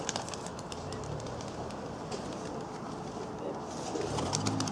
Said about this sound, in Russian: У Саши бакины летают в россыпь.